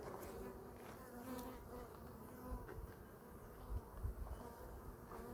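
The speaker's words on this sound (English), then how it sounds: "you'll see lots more bees in here" Honey bees buzz in an opened hive box during a hive inspection at an animal sanctuary, a dense, continuous droning hum from many bees close by, fairly quiet with no voices.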